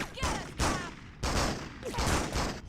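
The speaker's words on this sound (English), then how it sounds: "I just heard gunshots." Gunfire in the Spider-Man 2 (2004) video game, with several loud, dense bursts of shots coming one after another, mixed with game voices.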